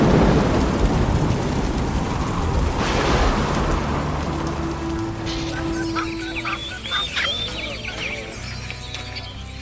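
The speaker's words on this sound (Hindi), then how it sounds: "पूरा एक दिन जोरदार बारिश होती है।" Heavy rain pours steadily as a dense, loud hiss through the whole stretch, joined in the second half by honking calls from geese or other fowl and a brief steady tone.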